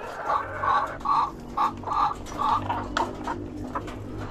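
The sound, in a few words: thirsty chickens clucking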